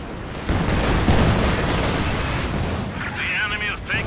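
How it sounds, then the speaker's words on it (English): Incendiary fire in the Company of Heroes 2 video game rumbles as a loud, continuous roaring blast with crackling battle noise, and a voice talks over it. "Another incendiary out the back."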